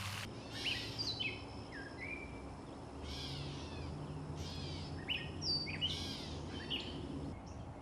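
Recorded on an Azden SGM-250 microphone: birds sing in repeated bright chirping phrases, several short bursts spaced through the clip over a soft, constant outdoor hum.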